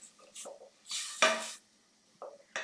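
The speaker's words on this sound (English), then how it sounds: "I'm just going to give it a really big stir." Spinach and feta pie filling being stirred in a pot, with a spoon clattering and scraping against the metal in a few loud irregular bursts and quiet gaps between them.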